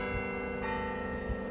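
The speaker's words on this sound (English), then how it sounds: "The bells chime 3 o'clock in Victoria" Church bells chiming three o'clock in Victoria, a sustained ringing tone with lingering overtones, fairly loud and alone.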